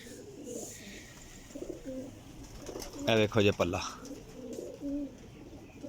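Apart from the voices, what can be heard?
pigeons cooing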